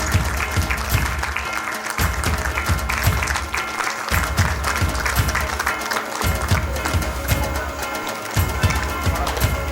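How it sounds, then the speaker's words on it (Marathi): Audience applause at a Labor Day celebration for workers held by Jadhav Enterprises, steady dense clapping running throughout with recurring low thumps mixed in, fairly loud and close. "जरा जोरदार टाळ्या होऊ दे."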